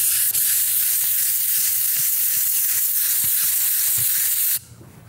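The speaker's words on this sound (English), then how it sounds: "This is the sound of sanding." Steady, dense hissing abrasion of sanding pottery with faint scraping pulses runs continuously and close, then cuts out abruptly near the end, leaving quiet room noise.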